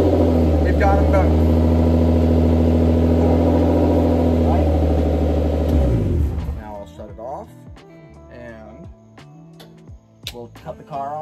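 An M50-engined car running on a Link ECU: a loud, steady idle drone with strong low harmonics that cuts out abruptly around six seconds, followed by clicks, ticks and scattered mechanical noises.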